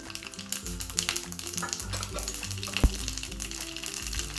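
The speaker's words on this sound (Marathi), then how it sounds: "तेल छान आता आपलं गरम झालं आहे त्यात टाकू आपण मोहरी" Mustard seeds crackle and sizzle in hot oil as a tempering for dhokla, a continuous close frying hiss with a sharp pop near the end, heard under steady background music.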